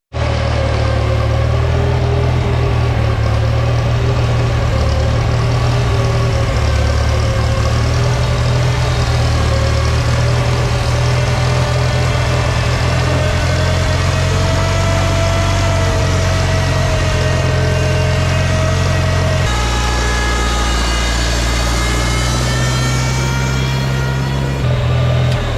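A Farmall 504 tractor engine idles steadily and loudly close by, a continuous low rumble with a slight shift in tone toward the end, no talk.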